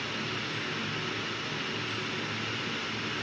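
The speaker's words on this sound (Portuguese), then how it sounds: "Olha o avião descendo." An airplane descends overhead, heard from a truck on the road as a faint, steady broadband roar with a constant hiss and no distinct changes, and no talking.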